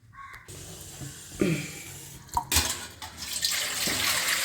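Water splashes and trickles as grapes are rinsed, with a few clinks against a bowl, then a louder steady stream of running water near the end.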